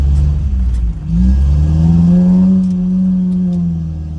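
A Ram 50 pickup truck's engine drones close by, dips for a moment, then revs up with a rising pitch as it accelerates and holds a strong hum. No one speaks.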